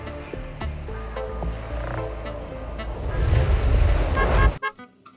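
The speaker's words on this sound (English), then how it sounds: "this is the car I'm now driving" Car being driven along a road near a South African biosphere reserve, a close, loud engine and road rumble building toward the end before cutting off abruptly, with no talk.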